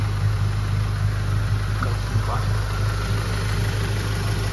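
A Volkswagen Jetta TSI engine with a 3-inch stainless steel exhaust idles steadily with a deep, even rumble, running continuously at close range with no revving.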